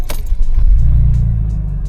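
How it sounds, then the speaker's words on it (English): A Mercedes SL engine cranks and catches, then settles into a loud, steady low rumble that runs close and alone to the end. "So let's start the car."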